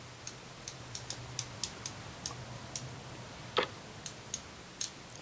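A 3/8-inch ratchet with a 36-tooth mechanism clicks quietly and smoothly: a regular string of crisp, faint ticks with one louder click midway, alone against a soft background hum.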